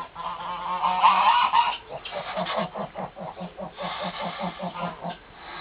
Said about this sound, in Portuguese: Aqui nós temos, essa parte coberta, 3 gansas chocando.